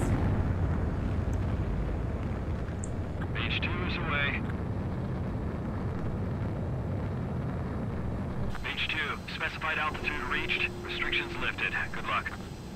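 A jet aircraft takes off in a combat flight video game, its engine a steady roaring rumble that shifts midway, overlaid by a speaking voice and brief game tones.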